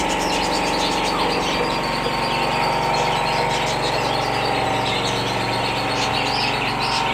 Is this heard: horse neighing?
no